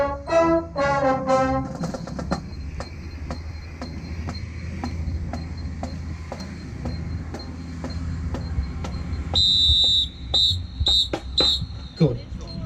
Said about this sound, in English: That whistle is painful.